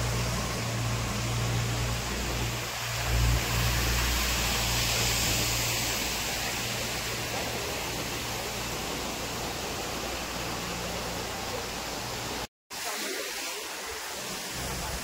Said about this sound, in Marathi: वॉटरफॉल बघा